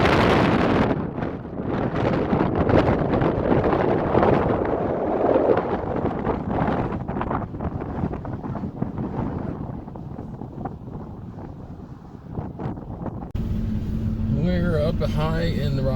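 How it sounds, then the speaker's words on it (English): Loud wind and road roar through an open car window while driving high in the Rockies of Rocky Mountain National Park, a continuous rushing rumble that eases slightly before a voice speaks near the end. "you're probably hearing a lot of road noise or wind noise"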